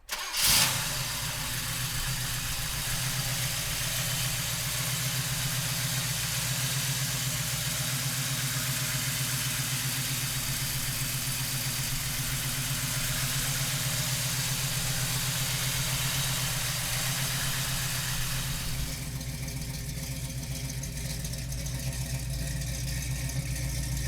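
A 1969 Chevrolet Camaro big-block V8 cranks and catches almost at once, then settles into a steady, rumbling idle that carries on unbroken, with a slight shift in tone near the end.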